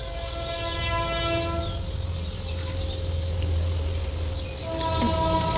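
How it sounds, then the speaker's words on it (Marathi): A train rumbles past farm fields with a long, steady horn blast, droning continuously at moderate distance, insects faintly audible alongside. "आता बघा रेल्वेचा आवाज येत असेल तुम्हाला, शेतामधूनच आमच्या रेल्वे वगैरे जाते"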